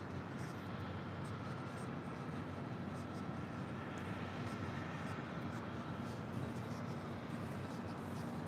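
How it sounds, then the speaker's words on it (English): A FedEx Boeing 767-300 freighter arriving at LAX on the 7s runways from Fort Worth produces a steady, distant-sounding broadband jet rumble that stays even throughout, with faint talk beneath it. "Next arrival on the 7s, FedEx Flight 1151 coming in from Fort Worth, Texas. This is 767-300 freighter."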